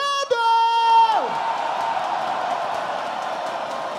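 Live audience at the grand final of a Brazilian rap battle roars and cheers for the team of Nel, Kurt and Prado, a loud sustained crowd swell that follows a brief harmonic whistle-like tone at the start.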